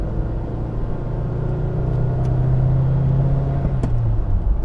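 A 1997 Toyota 4Runner with a 2.7 liter four-cylinder engine and 270k miles accelerating: a steady in-cabin engine rumble that rises in pitch and loudness, heard from inside the vehicle.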